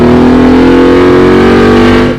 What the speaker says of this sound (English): Puts power down well coming off a corner.